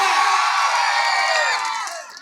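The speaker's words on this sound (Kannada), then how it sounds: "ಒಂದ್ಸರಿ ಜೋರ ಚಪ್ಪಾಳೆ ಬರಲಿ ಹುಲಿಗಳು." A large outdoor music show crowd erupts in loud cheering, whoops and yells, a dense roar that holds steady and then begins to fade near the end.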